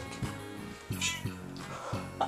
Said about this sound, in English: My cat speaks on command.